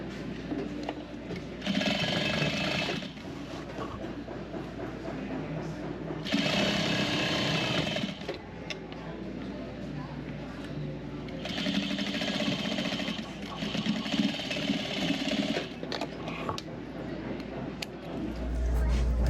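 A sewing machine stitches a seam on a repurposed vintage quilt, running in several sustained bursts with short pauses between them, close and fairly quiet, with a person talking in between.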